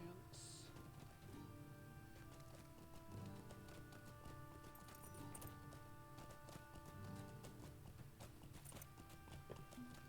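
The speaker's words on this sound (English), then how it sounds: "Hop back on the horse." A steed's hooves clip-clop steadily at a trot through a fantasy role-playing game, a continuous rhythmic patter under faint ambient music and game sounds, with no talking.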